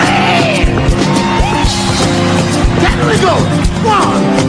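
A large crowd at a gospel praise concert yells and screams in a loud, continuous roar, with whoops rising above the din throughout.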